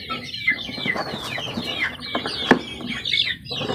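Chicks peep and cluck in a freshly cleaned backyard coop, with bursts of chirping, a few louder calls and brief wing flutters close by.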